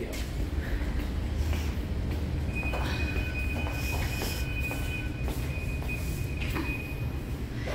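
The Serra Verde Express tourist train rolls along its rails near Morretes, Paraná, with a steady low rumble of wheels, clacks from the rail joints and a thin, sustained wheel squeal, heard close and without talk.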